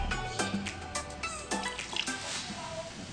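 Water runs and splashes into a pot of corn dough for Sierra Leone fufu, a close, bubbling trickle with small clinks, no talking.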